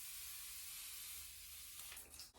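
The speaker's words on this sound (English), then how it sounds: "I'm going to start off with the Avene's All Thermal Water Spray." An Avene thermal water spray mists onto a face, a soft steady hiss lasting a couple of seconds, faint and close, tapering off at the end.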